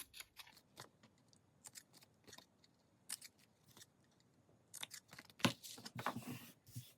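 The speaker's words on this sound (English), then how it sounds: "I've got to trim off these edges." Scissors snip repeatedly through the paper edges of an envelope pocket, making crisp, close cuts in irregular bursts with quiet gaps between, ending in a quicker flurry of snips and paper rustling.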